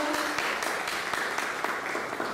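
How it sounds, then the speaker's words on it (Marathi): Audience applause at a Rotary Peace Week gathering and counselling and healing center inauguration, a steady wash of many hands clapping that carries through the whole moment at even volume, with no voices rising above it. "त्यांच्यासाठी आपण एकदा जोरदार टाळ्या वाजवूया"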